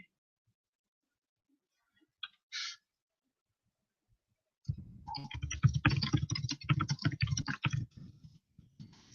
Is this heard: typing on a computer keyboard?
yes